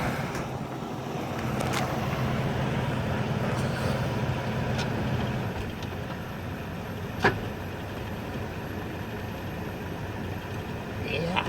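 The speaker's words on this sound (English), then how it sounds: "slip behind the wheel here again and drop it in gear and tell me how it's running now" A Plymouth Gran Fury's engine runs steadily in gear, a continuous low rumble close by with one brief sharp knock partway through, and a single short spoken word.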